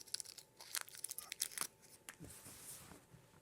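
Plastic packaging being torn and unwrapped at close range, with bursts of crinkling and tearing in the first couple of seconds, then quieter rustling and scrunching toward the end.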